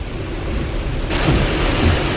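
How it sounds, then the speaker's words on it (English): Heavy, steady rain hisses close by, heard from inside a Tesla, growing denser partway through, with low rumbling underneath. "Well, it's raining out there."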